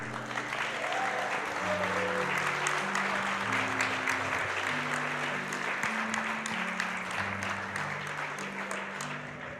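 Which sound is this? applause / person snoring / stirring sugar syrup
applause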